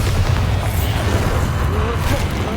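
A Bombarda spell blast in Hogwarts Legacy, a dense booming explosion with rumbling low end that fills the whole stretch, loud and continuous under game sound.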